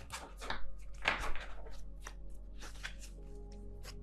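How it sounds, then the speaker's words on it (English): A Light Seers Tarot deck shuffled by hand, close soft riffles and papery flicks arriving in irregular bursts, strongest near the start, over a low steady hum. "Let me see if I can actually shuffle this way."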